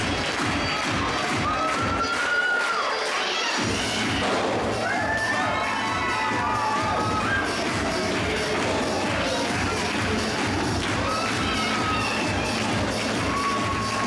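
A wrestling arena crowd cheers and shouts continuously for the winner of a battle royal, a broad, steady roar with scattered whistles and yells, loud and sustained throughout, with a brief dip in the low rumble near the start.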